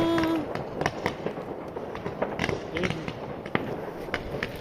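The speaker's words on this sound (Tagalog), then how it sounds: "Meron din sila dito paputok." New Year's Eve fireworks in Germany crackle and pop continuously in dense, overlapping bursts, loud and close, with voices in the background.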